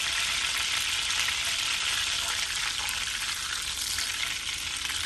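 Butter browning in a pan on the stove gives a loud, steady close-up sizzle and crackle, continuous and even with no talk over it.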